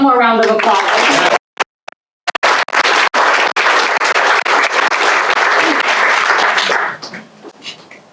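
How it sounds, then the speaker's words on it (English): A large gala audience bursts into a long, loud round of applause and cheering, dense clapping sustained for several seconds before briefly breaking and then trailing off into scattered claps. "Can we please give them one more round of applause?"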